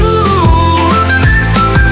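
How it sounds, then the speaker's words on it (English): A toy-like train whistle toots in a children's nursery song, sounding a string of pitched, evenly spaced notes about twice a second over a full, loud musical backing, with no talking. "The whistle on the train goes toot-toot-toot all through the town."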